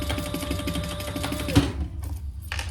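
Sewing machine stitching a zippy bag, a steady mechanical whir running close for about a second and a half, then stopping into near quiet with a faint brief resumption at the end.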